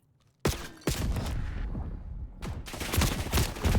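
Gunfire in the Call of Duty Black Ops 6 video game, ranked play: a loud shot bursts in after a short quiet, then rapid automatic fire and dense shooting continue, with a fresh heavy volley near the end.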